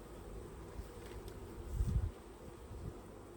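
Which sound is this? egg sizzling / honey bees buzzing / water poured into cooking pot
honey bees buzzing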